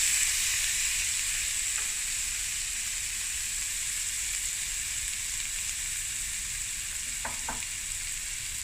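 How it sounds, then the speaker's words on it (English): Finely chopped onion with salt and pepper frying in a pan, giving a steady, soft sizzle throughout with a couple of faint clinks of stirring; no talking. "Now we're just going to let this fry for a few minutes"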